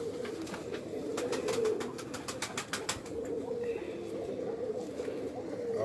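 Pigeons coo on a rooftop in a steady, continuous low rolling chorus, with a few faint chirps and sharper bird calls rising above it.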